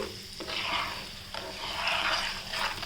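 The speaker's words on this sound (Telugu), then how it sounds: "ఇప్పుడు అందులోకే ఈ ఉప్పు కారం మెంతుల పొడి అన్నీ వేద్దాం వేసి ఈ విధంగా బాగా మిక్స్ చేసుకొని" A spoon stirs and scrapes salt, chili powder and fenugreek powder through oil in a pan for mango pickle, with repeated gritty scraping strokes close up and no voices.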